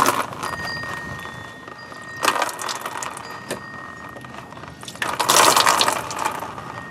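Coolant drains from a 1999–2004 Jeep Grand Cherokee into a drip pan, giving intermittent splashing bursts of liquid with a louder gush near the end.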